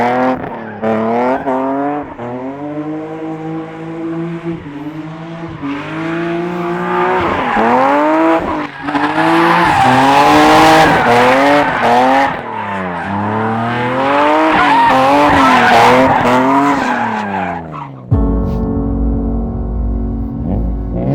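A BMW M3 E36 drift car sliding, with the engine revving hard and rising and falling while the tires squeal loudly through long skids, ending in a sudden lower, steadier rumble.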